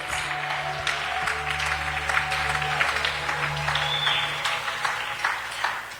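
A church congregation applauds continuously, a dense, sustained patter of many hands with a low hum and scattered louder claps throughout.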